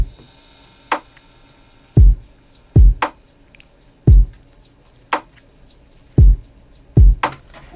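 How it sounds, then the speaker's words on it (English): Parallel-compressed drum kit playing together, with punchy kick and snare hits at a steady groove and lighter hi-hat and ride strikes between them, dry and close. "So the drums all together sound like this."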